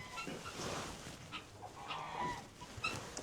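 Hens in a chicken coop give soft, low clucks and murmurs close by over a rustling background, with a few brief higher calls scattered through.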